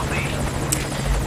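A helicopter in the video game Metal Gear Solid 5 Ground Zeroes, heard as a loud, steady rotor drone with a low rumble that continues throughout, with one short bright click near the middle.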